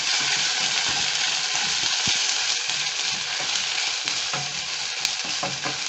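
Sautéed potatoes with garlic, onions, chilli pepper and coriander fry in a pan, a loud, continuous sizzle close by with a few scrapes and clinks of stirring.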